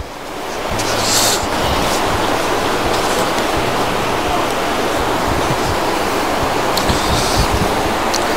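A loud, unbroken torrent of the swift Parvati river in Himachal rushes close by, a thick steady roar that swells slightly after the first second and holds evenly to the end.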